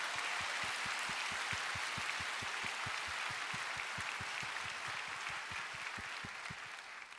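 A church congregation applauds during a prayer service, a dense, steady wash of clapping that holds for several seconds and eases slightly at the end, with no speech over it.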